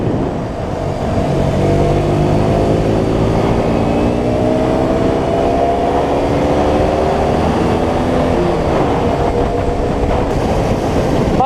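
A KTM RC125 motorcycle engine runs loud and steady while riding, its tone rising and falling through repeated gear changes with heavy wind rush throughout.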